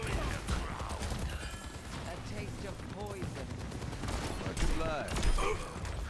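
Gunfire in the Overwatch video game crackles in rapid bursts amid busy game effects, loud and continuous through the clip, with a voice talking over it.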